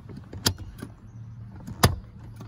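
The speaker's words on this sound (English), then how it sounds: "So if you were able to hear the click noise, that was to basically tell that this is now locked" A Nuna Pipa RELX infant car seat base latch snaps shut with a sharp click, followed by a second, louder click a moment later, close up inside a car with a low background hum.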